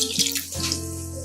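Milk pours into a bowl holding three eggs in a home kitchen, a brief close splashing, trickling stream with no voices.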